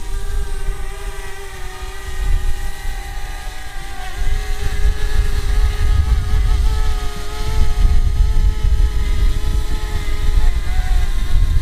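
A DJI Mavic Mini drone hovering a few metres up outdoors produces a constant buzzing propeller whine with layered tones, fairly loud, alongside rough wind buffeting, with no voices.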